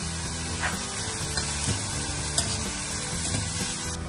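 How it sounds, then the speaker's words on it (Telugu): Onions and green chillies frying in a pan, a steady, even sizzle with light stirring scrapes throughout, close and continuous. "అయితే పచ్చిమిరపకాయలు కూడా యాడ్ చేసుకొని ఇంకొంచెం కొంచెం ఫ్రై అవ్వనివ్వాలి"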